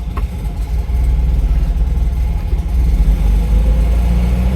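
A classic Fiat 500 engine with a clutch fault idles loudly and close, a low rough drone with a steady rhythmic rattle running under it and rising slightly in level, with no talking.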